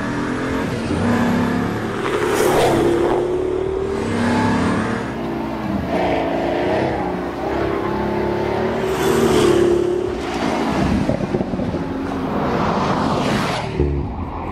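Pagani Huayra sports car driving hard, its engine revving up and down through repeated loud accelerations and gear changes, close and prominent with no talk over it.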